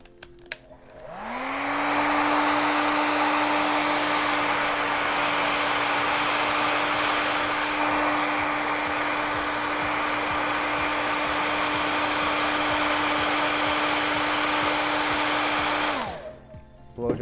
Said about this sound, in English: Blow dry it really good.